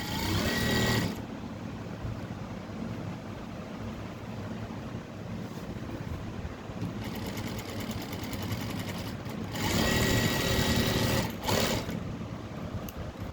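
A sewing machine runs in steady close bursts as it stitches fabric for a jacket, with a brief pause near the start and the whir picking up again, no talking over it.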